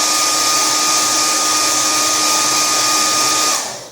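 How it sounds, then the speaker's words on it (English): Hair dryer blowing steadily to dry alcohol off the skin around an ostomy site, a loud continuous whoosh with a steady motor whine that cuts off at the end. "And you're going to need a hair dryer."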